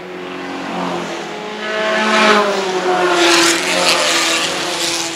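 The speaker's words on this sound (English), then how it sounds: "Here's our leader, Joe Bojalid, in the white Elva sports racer." A white vintage Elva sports racer at the Pittsburgh Vintage Grand Prix roars past, its engine note building and swelling loudly as it approaches and passes.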